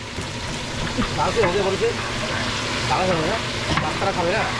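Onion, green chili, bay leaf and garam masala frying in a pan for a birthday celebration meal, a steady crackling sizzle with intermittent voices or clatter in the background.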